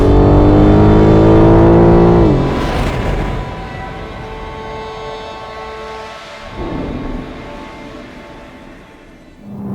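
A BMW M4 engine revving hard and loud up close, then the note drops away after a couple of seconds, followed by quieter engine sound with a brief second swell of revs.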